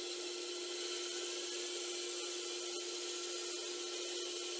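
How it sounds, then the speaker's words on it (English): Bandsaw cutting out a wooden heart pattern, a constant close high whine with a gritty cutting texture and a few faint ticks, no talking. "And then back to the bandsaw. Trying to cut out the pattern here."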